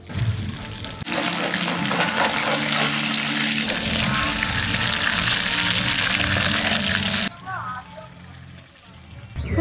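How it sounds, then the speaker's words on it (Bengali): Cauliflower for a Bengali ghurisha fish dish hits the pan with a sudden loud, rushing sizzle that holds for several seconds, then drops abruptly, with a brief voice afterward. "ফুলকপি ভেজে নেবো।"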